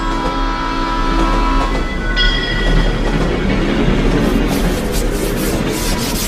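A train sound effect rumbles loudly behind a horror tale, with continuous rolling rail noise, brief tonal horn-like notes early on and grinding friction toward the end.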